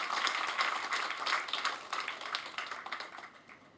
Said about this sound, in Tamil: இந்த தலைப்பிரசவம் முடித்த அத்தனை கவிஞர்களுக்கும் ஒரு அரங்கம் நிறைந்த கைத்தட்டலை நம்ம தரணும்